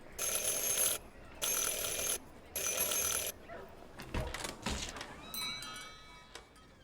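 In the Syberia 4 video game, a bell rings three times in loud, even bursts, each about a second long, followed by softer thuds and shuffling movement.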